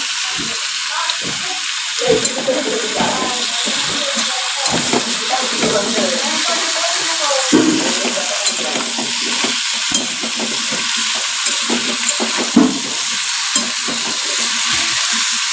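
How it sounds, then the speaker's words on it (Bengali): Dal simmering on one side and a poppy seed dish cooking on the other in a home kitchen, with a continuous sizzling hiss, scattered stirring clatter and a voice talking intermittently over it. "এদিকে পোস্ত হবে আর এদিকে ডালটা সেদ্ধ হচ্ছে"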